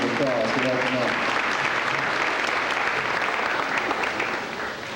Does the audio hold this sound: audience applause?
yes